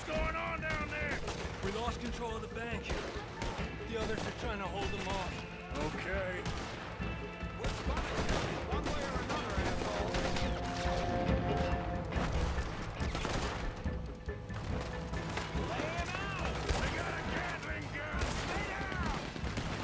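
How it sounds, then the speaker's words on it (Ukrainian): Rapid bursts of machine gun fire in Red Dead Redemption 2, loud and sustained across the whole stretch, layered with other gunshots, crashes and game music. "Ніфіга собі там кулемет. Був."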